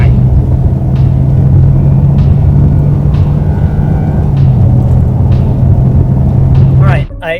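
A car on a speed run at Bonneville gives off a loud, steady engine drone with a low, sustained hum that holds for about seven seconds and then cuts off sharply at the end.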